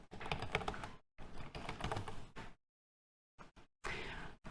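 Fingers type on a computer keyboard in quick bursts of clicking keys, close up, with short silent gaps between runs and a final key press.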